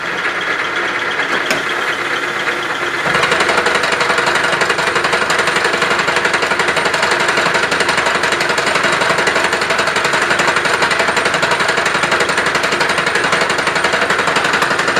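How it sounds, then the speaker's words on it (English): Bridgeport milling machine cutting setup blocks in a shop, a steady loud mechanical grinding roar that starts abruptly after a quieter hum and runs on continuously without talk. "Sitting here in the shop, milling away."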